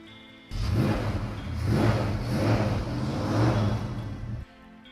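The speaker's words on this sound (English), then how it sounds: "no matter how much you rev the guts out of the engine" A car engine in neutral is revved hard for about four seconds, rising and falling in a few surges of loud, close engine roar before cutting back to a quiet idle, with no talking.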